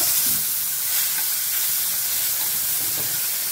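Sea fish, a local 'noya' fish among them, frying in a pan, giving a steady broadband sizzle and hiss with faint scraping stirs throughout, no talk.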